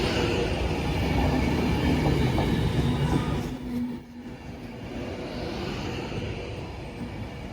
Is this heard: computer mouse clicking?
no